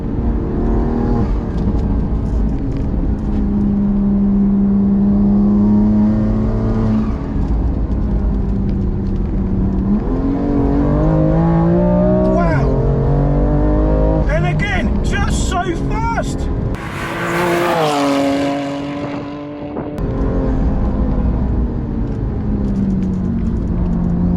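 A turbocharged BMW M2 accelerates hard, its engine droning steadily and climbing in pitch through the gears, loud and sustained from inside the car.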